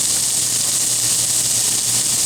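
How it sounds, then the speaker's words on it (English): Onions sizzling in hot olive oil in a heated pan, a steady bright hiss that stays even and close throughout, with no voices. "I'm going to add the onions to it, and it's going to be sizzling hot"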